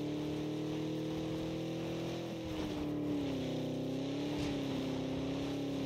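A car engine in the video game PUBG drones steadily and close, its humming tone dipping and rising slightly as the vehicle moves on, with faint wind-like noise underneath.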